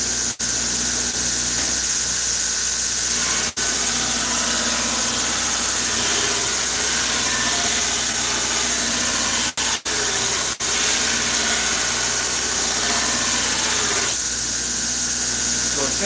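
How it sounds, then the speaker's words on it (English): Angle grinder working a steel gladius sword blade, a loud steady close-up roar of abrasive grinding that runs almost unbroken, with a few brief cuts and a slight shift in tone near the end. "That means I have to grind past center to get it out and then bring this metal back to center."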